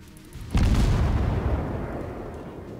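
A single heavy boom of warship guns firing in the video game World of Warships, from the cruiser Murmansk, a deep blast that rolls out and slowly fades under steady background rumble.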